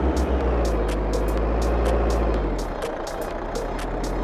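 Reversing beeps from a delivery truck in a shop simulator video game, a steady string of short repeated tones over a loud, constant engine rumble.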